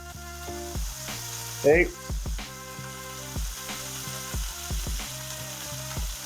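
Beef burger patties sizzle steadily in a hot pan, a loud continuous frying hiss with scraping and clicking from a spatula; a voice speaks briefly over it.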